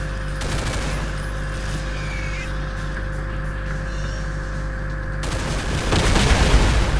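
Continuous gunfire from Doom with the Project Brutality mod, a dense, sustained rattle of shots over droning game sound that swells louder near the end.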